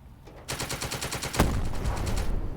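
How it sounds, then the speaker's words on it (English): Rapid gunfire in the video game The Troop, aimed at a light machine gun position above a beach: a fast, loud string of shots rattles steadily for about two seconds with no talk. "And open fire at this light machine gun that is killing everyone on the beach."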